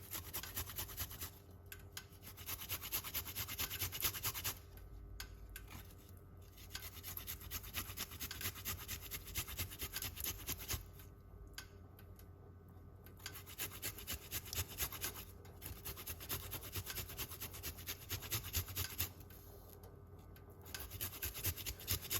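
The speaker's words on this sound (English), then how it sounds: "So I'm going to grate the ginger." Ginger is grated in steady rhythmic rasping strokes that come in repeated bursts with short pauses between them, close and fairly quiet.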